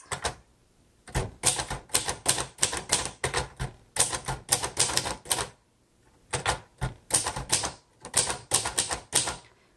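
Typing on a 1956 Royal Quiet De Luxe manual typewriter, close and crisp: quick bursts of clacking keystrokes in runs of several strikes, separated by short pauses, with no talking.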